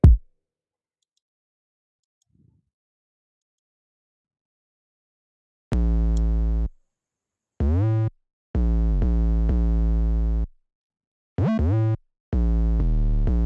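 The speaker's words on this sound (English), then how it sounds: "So the next sound I added was the bass, the 808, which sounds like this on its own." Deep, booming 808 bass notes from a UK drill beat play alone in short phrases with sustained tones and gaps between them, following a stretch of near silence.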